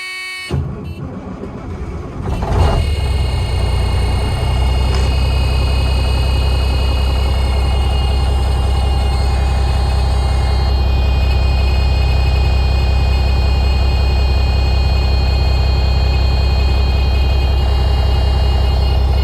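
A heavy Freightliner cabover truck engine, unrun for 20 years, cranks and catches, then settles into a loud, steady, rumbling idle that continues without a break.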